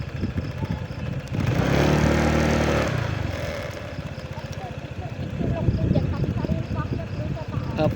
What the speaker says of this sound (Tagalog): Dito na tayo sa Santo Domingo na medyo rough road ang daan. Kaya naman medyo dyan pa lang, hirap na ang ating motor.